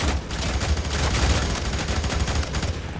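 Gunfire in the video game Fear 3, heard as a dense, rapid volley of shots crackling continuously for a few seconds, loud and close, with no voices.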